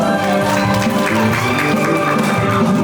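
Applause from the audience at a Korean dictionary book launch: sustained dense clapping that stays steady and loud throughout the few seconds.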